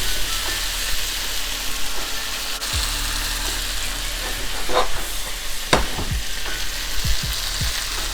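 Tomatoes with a pinch of salt frying in a pan for a beef and tomato stir-fry, a loud continuous sizzle and hiss with occasional scraping stirs and low utensil knocks near the end.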